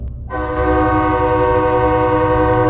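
A train sounding its horn as it runs, a loud sustained blare that starts abruptly and holds steady over a low rumbling engine, close and alone.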